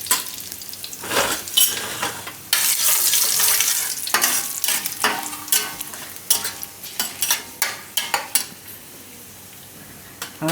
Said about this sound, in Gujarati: તલ ઉડે એટલે થોડાક લાલ મરચાં અને લીમડો